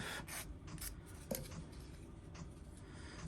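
Quiet, short scraping strokes of a 180-grit sanding stick removing burrs from a plastic 1/24 Fujimi Isuzu Bighorn model kit part, repeated in irregular bursts close by.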